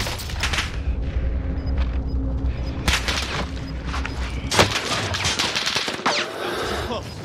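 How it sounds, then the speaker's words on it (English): Gunfire in Call of Duty Warzone: repeated bursts of rapid automatic fire and single shots crack at varying distances over a game background, with a few louder nearby blasts. "Why are they only shooting at me, though?"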